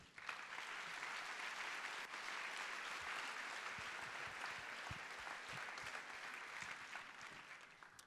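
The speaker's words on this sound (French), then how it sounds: "Vous pouvez les applaudir." A crowd's sustained applause fills the space, dense steady clapping from a large audience that holds evenly throughout.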